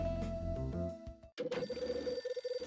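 A telephone rings in the detective adventure game Last Window, a steady repeating electronic ring with a brief gap before the tone resumes in a quick pulsing pattern, loud and up close over a background music bed.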